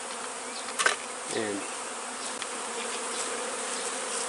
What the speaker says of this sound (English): we got bees and bees and bees and more bees